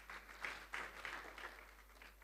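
A conference audience at an agriculture event claps for a speaker, a faint, distant patter of many hands with a few louder swells, heard quietly as if from across a large hall.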